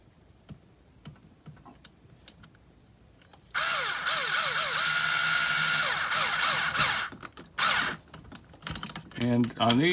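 Power drill driving bolts while mounting ECTO rock sliders near the transmission and center skid plate: quiet clicks and handling at first, then a loud sustained whir with changing pitch, followed by short bursts.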